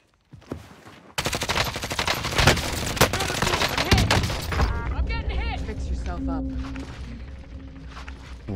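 A burst of dense rapid gunfire in a multiplayer shooter game strikes the player, loud and crackling for several seconds, then thins out beneath ringing tones and voices talking.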